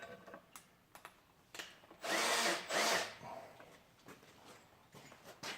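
A cordless drill whirs in two close bursts of about a second each while backing a tap out of a drilled hole, with scattered knocks and small handling sounds before and after.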